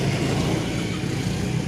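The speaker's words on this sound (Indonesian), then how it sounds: "Terus suara motor." A motorbike engine hums in a steady, low, continuous drone heard for a brief moment at moderate distance.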